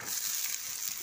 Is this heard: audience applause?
no